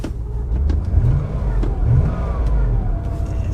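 A Range Rover engine idles and revs unevenly, with rising and falling engine tone close by and a few clicks and knocks over the running motor.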